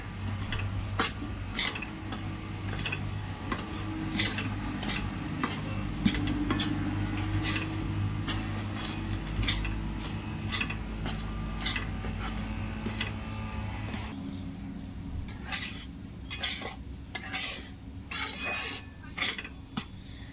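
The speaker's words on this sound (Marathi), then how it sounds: "इथे मी कोरडंच भाजते पीठ" Urad dal flour being stirred as it dry-roasts in a pan, a steady scraping and clinking of the utensil against the metal pan over a low hum, with a run of sharper, faster taps toward the end.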